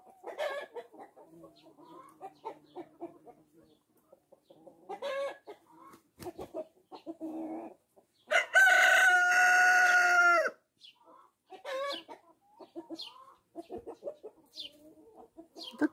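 Xin Dian hens, a breed laying green eggs, cluck in short bursts nearby, then a rooster lets out a loud, drawn-out crow before the clucking resumes.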